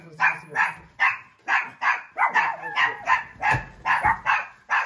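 Two dogs at a family home bark repeatedly and close by, a steady run of sharp barks with some yips mixed in, while people nearby make occasional sounds.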